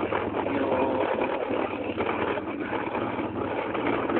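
A vehicle's engine runs steadily at a moderate level as the driver sets off toward a market, a constant mid-pitched hum without voices.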